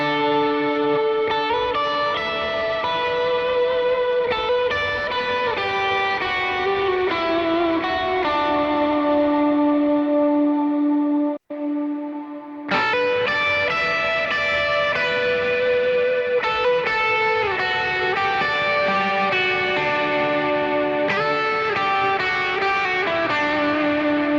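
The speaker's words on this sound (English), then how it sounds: "reverb and delay." An electric guitar plays through a cabinet impulse response with reverb and delay, giving loud, sustained, heavily effected notes and chords with one brief break midway.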